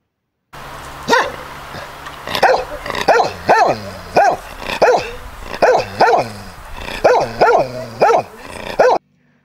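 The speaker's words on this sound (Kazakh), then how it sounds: "Ит үрөт." A dog barks repeatedly in a steady run of sharp, loud barks, close by, with a few growly, whiny edges between them.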